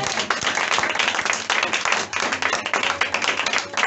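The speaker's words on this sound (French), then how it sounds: "Au nom de Jésus, acclame encore le Seigneur." Congregation at a church service clapping continuously in praise, dense, loud and close, a rapid irregular patter of many hands.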